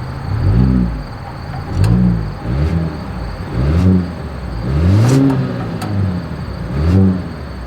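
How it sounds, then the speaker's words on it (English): A 2025 Volvo XC60 with dual exhaust revs repeatedly from idle, each throttle blip rising and falling in a deep, rounded swell about once a second, loud and close behind the car. "As always, here is that exhaust clip."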